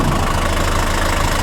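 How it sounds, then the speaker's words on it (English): A Mercedes-Benz W123 engine runs with a steady, throbbing exhaust drone, loud and continuous, with no voices over it. "You can hear the exhaust sound a bit."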